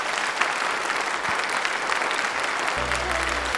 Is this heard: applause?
yes